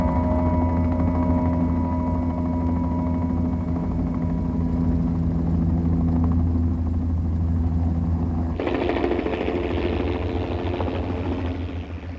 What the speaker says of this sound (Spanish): un equipo aterrizó con el helicóptero en Lulan